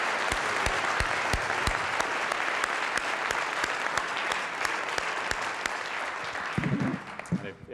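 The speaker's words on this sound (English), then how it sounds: "Let's give Nigel a round of applause." Round of applause from an audience at a talk on faith, politics and the human embryo; sharp individual claps stand out over a dense, sustained wash of clapping that thins near the end.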